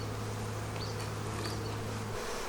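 Honey bees hum around an open beehive, a soft, steady drone close by with a low continuous tone that cuts off near the end.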